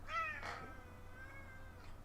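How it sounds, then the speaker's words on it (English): A cat lets out one drawn-out meow that rises and then trails off slowly, fairly close but quiet over a low background hum. "That was a long meow."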